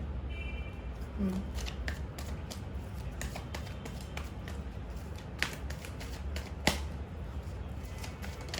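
Tarot cards are shuffled and laid out close by, soft repeated riffling and light flicks and taps scattered across the clip, faint over a low background hum.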